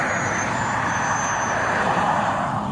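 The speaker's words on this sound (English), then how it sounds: "Man, these cars are so loud." Loud road traffic rushes past close by, a continuous broadband roar of passing cars without pause and no voices.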